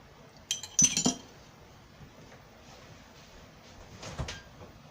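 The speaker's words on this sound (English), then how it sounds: "And the eggs are going to go in." Eggs for a sweet potato pie crack into a bowl: a quick cluster of sharp clinks and taps, then quiet room tone and another faint pair of clicks near the end.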